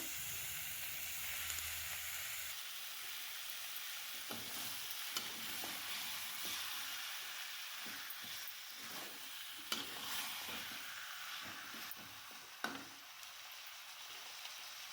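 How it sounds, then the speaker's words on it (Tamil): Small cut chicken pieces sizzle and fry steadily in a pan while a spoon stirs them, with repeated scraping knocks and clatters over the continuous close frying hiss; no talking. "நம்ம சின்ன சின்ன பீசஸாக கட் பண்ண சிக்கனை சேர்த்துக்கலாம். சேர்த்துட்டு நல்லா வதக்கி விட்டுக்கோங்க."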